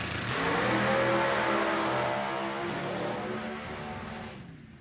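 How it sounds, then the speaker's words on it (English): A nostalgia drag racing car engine revs loud and close at an NHRA Heritage Series event, a sustained roaring drone that holds strong and then gradually fades away, with no talking over it. "Rick Ewens will get loud and noisy."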